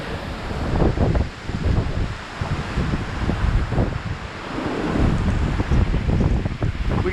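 Hurricane Zeta's wind storm roars and gusts hard against the microphone, a loud continuous buffeting rush with surging swells and no speech.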